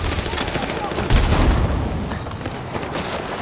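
A grenade blast and bursts of rapid gunfire from the video game Battlefield 6, loud and rumbling, with a heavy boom partway through and crackling shots around it, mixed with game voices.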